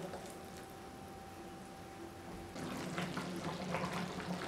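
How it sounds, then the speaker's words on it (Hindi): Cornflour slurry poured into a Manchurian gravy mixture in a pan, a soft close liquid splash and gentle sizzle that picks up partway through, alone without talk. "अब मैं इस पानी को इस मिक्सचर में डाल रही हूँ।"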